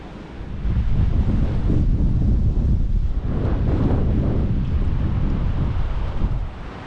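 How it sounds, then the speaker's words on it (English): Strong wind buffets the microphone in a loud, continuous roar of low rumbling gusts. "That's how windy it's been."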